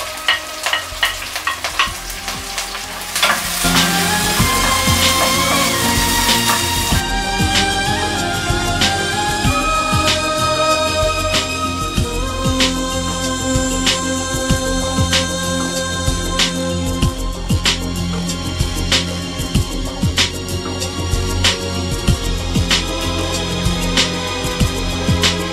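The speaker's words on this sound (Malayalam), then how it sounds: "എണ്ണ നന്നായി ചൂടായി വരുമ്പോഴത്തേക്കും അതിലേക്ക് മുറിച്ച് വെച്ചിരിക്കുന്ന സവാളയും ഇഞ്ചിയും ചേർക്കാം" Onion, ginger, green chili and curry leaves fry in hot oil for a Kerala-style fish curry, a steady loud sizzle with crackling pops and occasional stirring clatter, no voices.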